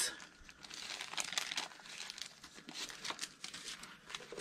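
Thin, crinkly vellum paper envelopes are handled close by, producing quiet, continuous rustling and crackling that swells and fades in small bursts.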